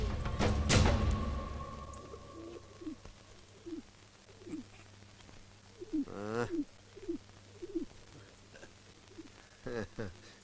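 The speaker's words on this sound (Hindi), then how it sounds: "ये पंछी ससुरा अमरपुर से उड़कर आया लगता है।" A bird, sounding like a pigeon or dove, gives a series of repeated cooing calls at a steady rhythm, moderately close, with voices talking in the background.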